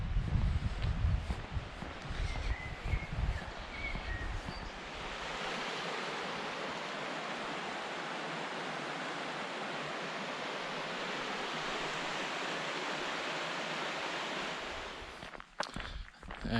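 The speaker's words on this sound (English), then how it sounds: "We're just going to cross over the river now." A river in the Peak District rushes in a steady broad roar heard while crossing a bridge on a disused railway walking trail, with footsteps and movement noise near the start before the water fills everything.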